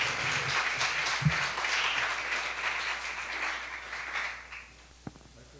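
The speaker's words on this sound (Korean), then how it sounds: "박수로 환영해 주시겠습니다." Steady audience applause in a church welcoming a pastor before a sermon, a continuous wash of clapping that holds for several seconds, then thins and dies away near the end, moderately distant.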